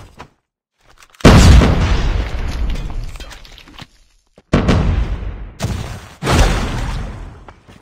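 A flashbang grenade in a video game shooter goes off in several sharp, loud bangs, each a sudden blast with a decaying ringing tail, separated by brief silences and with no talk over them.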